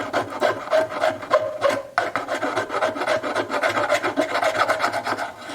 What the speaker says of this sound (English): The easiest way to do that will be with this little raspy file,